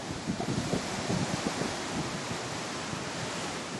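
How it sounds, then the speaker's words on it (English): Violent, choppy ocean waves off a coast in eastern Indonesia, heard as a steady roaring wash of surf with gusty wind noise on the microphone and no voices. "Pretty violent waves out there. Pretty choppy."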